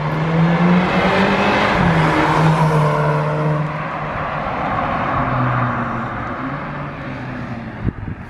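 A Volkswagen Golf GTI with a decat downpipe accelerates with a loud rising engine tone, the DSG gearbox dropping pitch at each downshift, heard fairly close and without talk.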